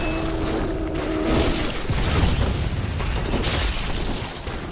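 Enemy gunfire in the game Bloodborne, a dense, continuous barrage of booming shots and bursts that holds at a steady loud level throughout, with no talk over it.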